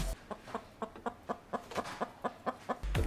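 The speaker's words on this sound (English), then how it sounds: "Got my rooster here going this morning." A rooster on a cold, closed-in balcony clucks in a quick, even series of about a dozen short, close calls, then ends with a louder burst.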